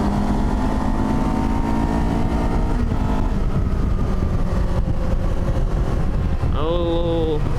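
Kawasaki Ninja 500-engined lightweight adventure motorcycle riding on twisty roads, a steady droning engine note with wind roar, the pitch easing and shifting, and a brief rising whine near the end.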